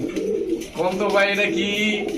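A pigeon coos close by, a soft throaty rolling call lasting about two seconds.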